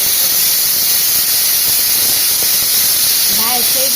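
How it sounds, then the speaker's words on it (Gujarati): A pressure cooker cooking rice in a home kitchen lets off a loud, steady hissing whistle of escaping steam that runs unbroken throughout, with a few brief vocal sounds near the end. "હારો હાર સીટી વગાડે છે, ક્યારનું મને પટાવે સીટી મારી મારી કુકર"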